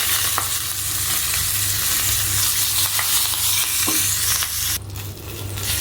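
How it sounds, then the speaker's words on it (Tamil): Green chillies and curry leaves frying in hot oil for a South Indian lemon rasam tempering, a steady close sizzle with occasional stirring clatter and no talk. "இதுலேயே நம்ம எடுத்து வச்சுருக்க 2 பச்சை மிளகாயும் கிள்ளி போட்டுக்கலாம். அடுத்தது இதுலேயே கருவேப்பிலையும் போட்டுடலாம்."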